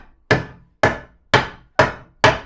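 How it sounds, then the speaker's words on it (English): Five sharp metallic hammer blows fold a thin metal number plate over at a steady rhythm, each ringing briefly before the next strike. "the rest I'll just hammer that down"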